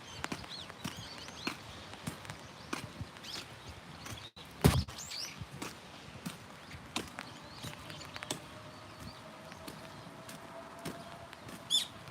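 Scattered bird chirps and tweets come from nearby amid outdoor ambience on a rainy street lined with cherry trees in Japan, with intermittent taps and a few sharper knocks.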